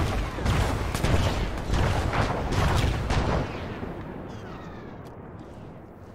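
Artillery fire in a WWII video game set around Pegasus Bridge: loud, dense rumbling barrage of overlapping blasts for about three and a half seconds, then fading into a quieter distant background.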